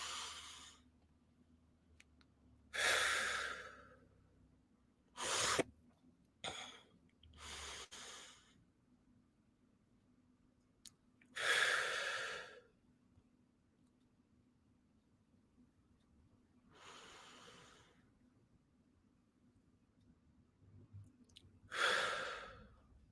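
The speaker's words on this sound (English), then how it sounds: "Let's do some breathing. Let's do 3 big breaths." Slow, deep breaths taken during a guided breathing exercise, a few long airy inhales and exhales spaced several seconds apart with quiet pauses between, close and soft, no talking.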